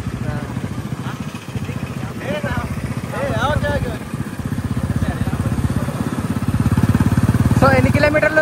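Motorcycle engine running steadily while riding on a road trip to Nizamsagar dam, a continuous mid-pitched rumble that grows louder over the stretch, with people talking over it.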